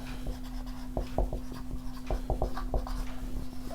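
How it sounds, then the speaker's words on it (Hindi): A definition being written out by hand during a physics lesson on the photoelectric effect: quick, irregular scratchy strokes and light taps, close by, over a steady low electrical hum. "तो हम इसकी डेफिनेशन में लिखते हैं"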